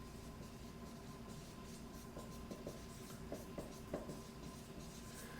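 Someone writes on a board in a lecture setting, giving soft, faint strokes and rubbing taps over a low steady hum, with small marks scattered through the middle of the clip.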